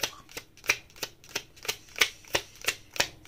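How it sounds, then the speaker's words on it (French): Tarot cards are shuffled in a close, crisp run of rapid riffling bursts, about ten evenly spaced flutters over a few seconds, with no talk. "On va tirer 2 cartes"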